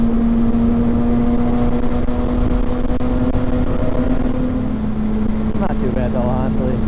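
A motorcycle engine idles steadily with a constant low hum and a faint rising whine near the end, while speech runs over it throughout in a cold winter setting.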